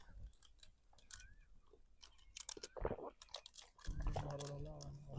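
Close chewing and crunching of a sweet food that grows on a tree, with soft bites and a rising munch near the end, alone without talk.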